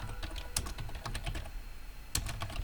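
Computer keyboard typing, a close run of quick irregular key clicks with a few sharper strikes, heard alone without speech.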